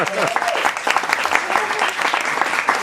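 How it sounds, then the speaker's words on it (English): Applause from a crowd of dinner guests at a wine media gathering, steady dense clapping lasting a few seconds, with voices mixed in beneath it. "a little round of applause for Charles"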